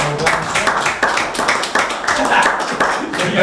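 An audience at a Bristol select board meeting claps in a quick, uneven patter of hands, with voices cheering and talking over the applause throughout.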